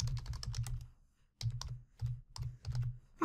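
Typing on a computer keyboard, with quick bursts of close key clicks broken by short pauses and no voices.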